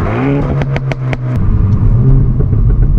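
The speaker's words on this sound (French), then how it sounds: "le Taycan Cross Turismo. Voiture électrique, mi-break, mi-4x4. très haut de gamme, Turbo S" A Porsche Taycan Cross Turismo Turbo S electric car drives past close by, a loud steady hum that rises in pitch with rapid ticking clicks early on, then swells into a broad road roar.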